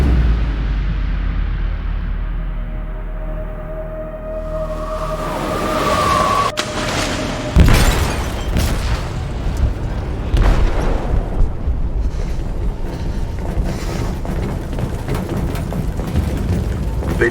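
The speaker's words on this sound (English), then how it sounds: "They detonated an explosive in the hold. The ship is sinking, sir." An explosive detonates in a ship's hold in Detroit: Become Human, a loud booming blast followed by repeated heavy crashes, bursts and rumbling that keep the whole stretch dense and loud, with no talk.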